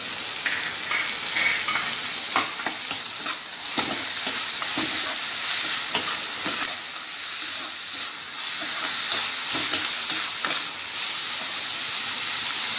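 Chopped tomatoes hitting hot oil in a pan of capsicum poha sizzle and hiss steadily while a spoon stirs them, with scraping strokes punctuating the frying noise, close and loud.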